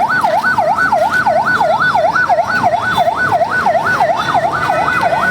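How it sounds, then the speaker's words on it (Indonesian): A wailing ambulance siren at the scene of a commuter train crash at Bekasi Timur station, rising and falling in a steady fast cycle, loud and continuous with no talk over it. "Banyak ambulan belakang."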